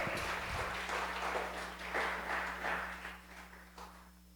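A church congregation gives a soft, scattered round of clapping, faint and somewhat distant, with irregular claps rising and falling over a low steady hum.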